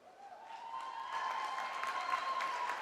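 An audience claps steadily at a Young Living convention, a dense, distant wash of applause filling a large hall, with a sustained tone running under it.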